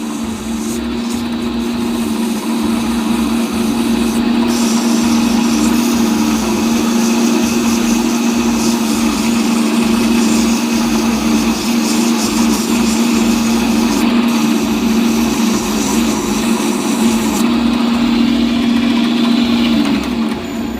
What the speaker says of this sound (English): So sanding with the grain again.